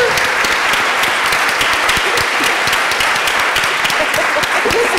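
A crowd applauds two young women at a school-discipline talk, with dense steady clapping filling the room and a few cheers and whoops rising above it for the whole stretch.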